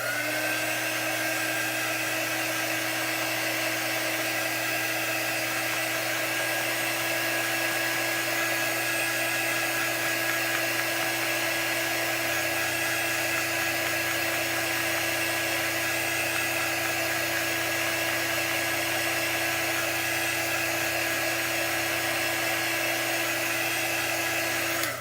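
A hair dryer drying chalk paint on a craft piece hums in a steady, continuous whine throughout, close and moderately loud, with no talking.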